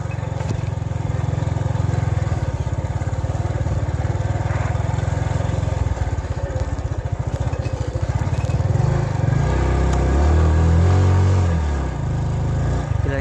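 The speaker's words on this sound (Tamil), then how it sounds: "தள்ளிவிடு நண்பர்களே வண்டி மாட்டிக்கொண்டது" Vehicle engine revving hard and continuously while stuck on a rough, muddy farm path, a loud steady drone with pitch rising and falling near the end.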